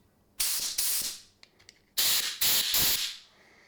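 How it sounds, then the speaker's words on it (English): Compressed air blasting through the ports of a Chinese ATV carburetor, several loud, close hissing bursts of about half a second each, with a short gap and a few faint clicks between two groups. "if you have compressed air, it's nice to use it to blow through the ports."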